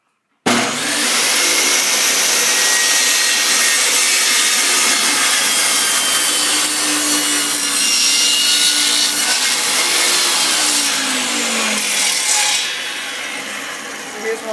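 Hand saw cutting through wood strips for a homemade 8x8 checkerboard, a loud continuous rasping that runs nearly the whole time, close up and alone before easing off at the end.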